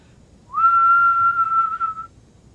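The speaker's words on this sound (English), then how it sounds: "Or the same note whistled." A single sustained whistled musical note, steady and clear, held for about a second and a half on its own with no talk and only faint background noise.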